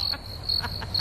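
A crickets-chirping sound effect plays as a few bright, evenly spaced chirps over a soft background hiss, with no talking.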